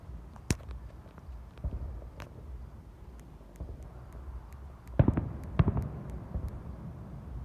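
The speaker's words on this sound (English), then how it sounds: "Oh, look at the great fireworks right here." Fireworks bursting in the distance, several sharp scattered pops and cracks with a dense cluster of bangs toward the end, fairly faint against a quiet outdoor background.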